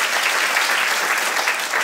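A comedy club audience claps steadily, a dense, even burst of applause that stays loud for under two seconds with no voices over it.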